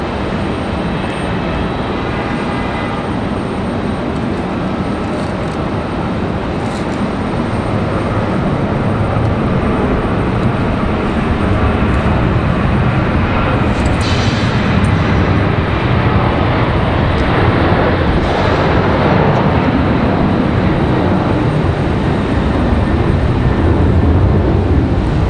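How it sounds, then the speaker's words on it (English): A United Boeing 737 jet departs Raleigh Durham airport with a sustained, loud broadband engine rumble that builds gradually over the whole stretch, no voices present. "So we go over to another United, I believe, another 737 on the way out."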